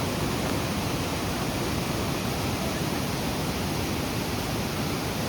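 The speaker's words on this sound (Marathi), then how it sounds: "हे सर्व पाणी वरतून खाली पडून तोच धनगर वॉटरफॉल तयार होतो" The Dhangar waterfall near Badlapur roars as water pours down from above, a loud, unbroken rushing wash heard close by, with no other sounds.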